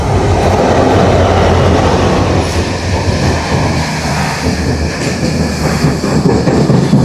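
A train rumbles steadily close by, with continuous rolling wheel noise and a rattling clatter that stays loud throughout.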